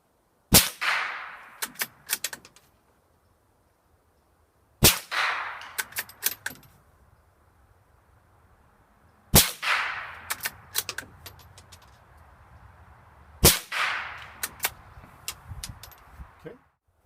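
Rimfire rifle shots, Ruger American Rimfire or Savage MKII FV-SR, striking Federal steel targets: four sharp reports spaced about four seconds apart, each trailed by quick metallic pings and clatter, loud and close with quiet gaps between.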